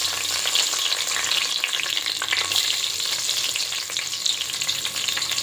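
Dried red chilies and black pepper frying in hot oil in a pan for eggplant chutney: a dense, continuous crackling sizzle with small pops and faint stirring, close and steady throughout, no voices.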